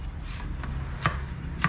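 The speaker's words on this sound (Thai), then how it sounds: "นี่ หั่นเฉียง ๆแล้วตรงใบเนี่ยไม่ต้องหั่นเฉียงแล้วหั่นตรงๆกันเนี่ย" A knife chopping vegetable stems and leaves on a cutting board, with a few soft, spaced cuts, close and quiet, and no voices.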